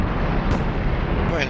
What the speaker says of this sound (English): Drop the bombs, guys.